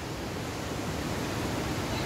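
Tekaan Telu waterfall in Tomohon, North Sulawesi, a site with three falls, roars as a steady, dense rush of falling water, loud and unbroken throughout with no voices.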